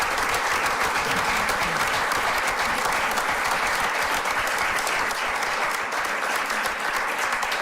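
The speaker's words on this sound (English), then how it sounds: "I think that's something we need to clap and shout about." A crowd at a Nebraska governor's bill signing breaks into sustained applause, dense, loud and unbroken for the whole stretch.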